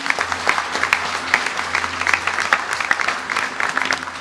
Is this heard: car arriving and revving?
no